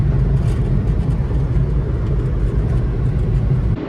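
Japanese mini truck driving, a loud continuous low engine rumble and road drone from inside the cab, steady throughout with no talking.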